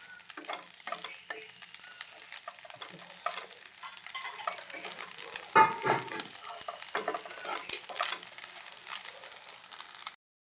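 An egg fries in coconut oil with a soft, steady sizzle and crackle, plus occasional scraping or stirring sounds, all fairly quiet and close.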